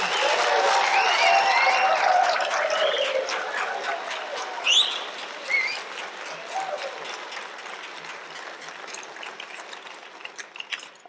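Conference audience applauding Bob, a full burst of clapping that gradually thins and fades, with some faint whoops and scattered stray claps near the end.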